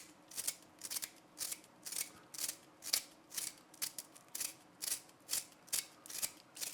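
A wooden pencil is turned in a sharp manual sharpener, giving a quiet, close series of rhythmic scraping, shaving strokes, about two per second, with no one speaking.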